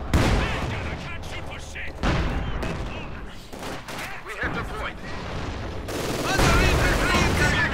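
Dense battlefield gunfire and heavy artillery booms in a Company of Heroes 2 one-versus-one match, sniper shots and bombardment crashing in irregular bursts over a sustained roar, with a commentator talking throughout.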